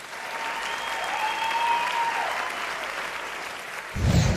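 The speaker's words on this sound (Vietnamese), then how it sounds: "hãy dành một tràng pháo tay để chúc mừng Kim Anh đã hoàn thành phần thi của mình" An audience applauds after a young contestant's singing performance, steady clapping running under a faint lingering melodic tone, then rising sharply louder and closer in the final half second.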